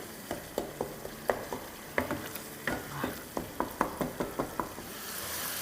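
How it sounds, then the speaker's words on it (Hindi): Spiced yogurt masala stir-fried in a pan for potato curry: a spoon knocks and scrapes the pan in a steady rhythm of about a dozen close clacks over a continuous soft sizzle, with no talking. "अब अच्छे से इसकी भुनाई करेंगे"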